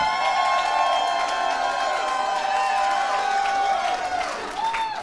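A live podcast audience at a tech conference show cheers loudly, a sustained crowd roar with whoops and shouts that stays steady for several seconds before easing slightly near the end.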